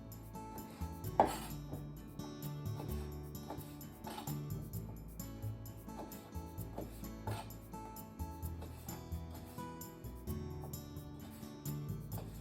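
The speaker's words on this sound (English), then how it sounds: "I'm cutting mine into 3 so that I can have shrimp in every bite." A knife chops shrimp into three pieces on a board, giving a run of light, regular thuds and clicks, close and fairly quiet, with no talking.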